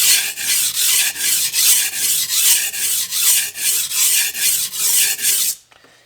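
A knife is drawn in steady, rhythmic strokes across a coarse sharpening stone during edge repair, about a dozen loud, gritty rasps at an even pace, then the scraping stops abruptly near the end.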